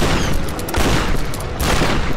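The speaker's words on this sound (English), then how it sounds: "Oh, I got two shots off." Dense gunfire erupts during a frantic Tomb Raider (2013) finale fight, loud and sustained, with repeated shots blurring into a continuous burst.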